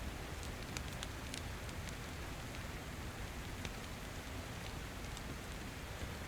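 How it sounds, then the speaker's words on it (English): Heavy rain in the survival game DayZ, a steady dense hiss of falling water with scattered brief drop ticks, constant and fairly quiet throughout with no voices. "it's easy to sneak past them in the rain this heavy."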